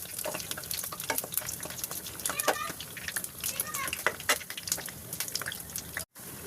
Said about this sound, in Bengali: তালের বড়া ভাজতে একটু ডুবো তেলে ভাজতে হয়